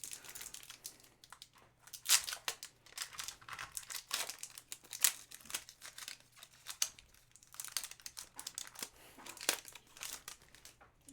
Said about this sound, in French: Obsidian Flame va vraiment nous aimer. Booster qui n'est pas facile à ouvrir